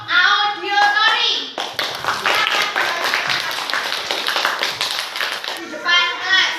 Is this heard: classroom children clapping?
yes